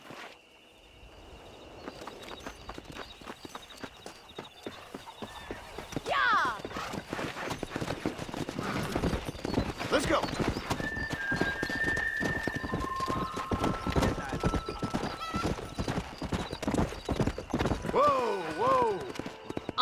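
Horse hooves in Red Dead Redemption clip-clop at a quick, steady gallop, near and loud, with a couple of whinnies and a brief shout over the hoofbeats.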